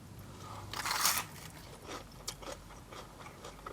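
Crisp crunching of fried fish batter on fish and chips, a loud bite followed by several smaller crackly chews, close and clear with no talk.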